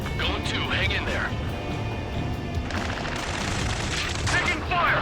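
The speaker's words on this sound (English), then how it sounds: "Taking fire! We're pinned down! Shoot back!" Gunfire in the jet combat game Ace Combat 7 crackles in steady rapid bursts beneath shouting radio voices, dense and continuous with rumbling explosions in the background.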